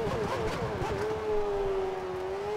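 A Formula 1 car from the F1 2013 racing game on Singapore's Marina Bay street circuit, its engine holding a steady, loud high-pitched drone as the throttle is applied, with a slight dip and recovery in pitch.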